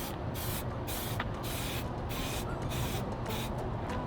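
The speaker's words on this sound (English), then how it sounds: "does every car guy have a designated cardboard box to use to spray paint their parts?" Aerosol spray paint can blacking out car parts for a BMW M3 in a cardboard box, a close, continuous hiss broken by brief rhythmic gaps between short passes.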